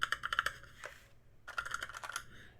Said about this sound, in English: it's supposedly a mechanical keyboard